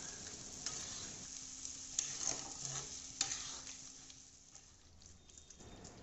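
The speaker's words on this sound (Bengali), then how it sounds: "এবার একটু ভালো করে নাড়িয়ে নেব।" A spoon scrapes and stirs through paneer sizzling in a hot kadai, with irregular clacks against the metal over a steady frying hiss.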